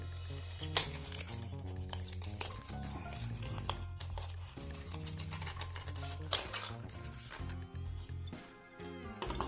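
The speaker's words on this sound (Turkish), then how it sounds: "İsterseniz hemen kutusunu açalım." A cardboard box holding a Sonoff smart home device is opened by hand, giving a few sharp clicks and light tapping, rustling handling noises up close, over steady background music with no talk.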